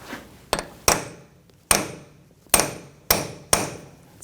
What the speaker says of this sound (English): I'm just going to take a punch and just peen over the nut, just where the little cutouts are on the axle. Just give it a couple taps.